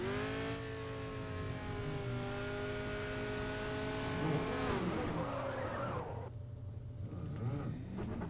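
Go-kart engine in the Project Cars racing game revs with a steady tonal whine that sags and drops off, followed by tire skid noise, loud and continuous throughout.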